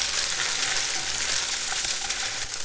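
Tofu and carrots frying in a pan, a steady dense sizzle with crackling spatter holding at an even loudness throughout, close and continuous with no talking.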